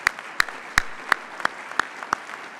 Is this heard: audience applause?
yes